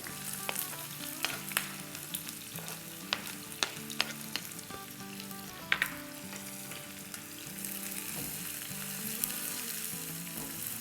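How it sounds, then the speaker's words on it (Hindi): Thinly sliced onions sizzle and crackle steadily in hot oil while frying to light golden, with occasional scraping clicks of stirring, close and continuous with no talking. "और अब इसमें हम डाल देंगे प्याज, जो कि हमारी एक लार्ज प्याज काटी है बारीक बारीक स्लाइसेस में।"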